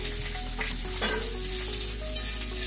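Onions, capsicum and tomatoes fry over a high flame in a kadai for kadhai paneer, giving a steady, close sizzle with faint clinks of stirring throughout.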